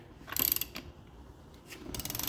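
A torque wrench set to 100 pounds tightens car lug nuts, giving quick bursts of ratcheting clicks with short pauses between, close and fairly quiet, with no talking.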